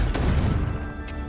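A single blasting-curse explosion from the Hogwarts Legacy video game, a close, dense crash and boom with a little ringing tail, alone and brief.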